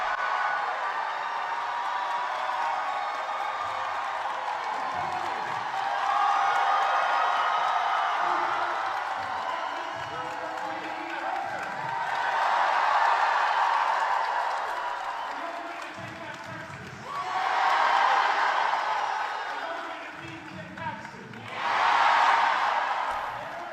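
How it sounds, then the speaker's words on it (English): A large rally crowd in Collin County, Texas, for James Talarico, with murmuring and cheering that rises in waves of applause and whoops several times, heard at a moderate distance. "Here is the crowd that he is bragging on."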